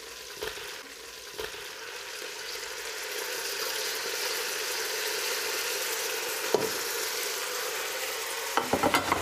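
Onion and garlic frying in hot fat in a soup pot, a steady soft sizzle and crackle with a few faint utensil knocks, no talk.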